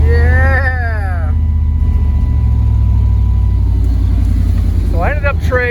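A 1995 Chevy OBS pickup truck engine runs with a steady low rumble, idling slightly high, with a brief rise in revs near the start and again at the end while a person talks over it.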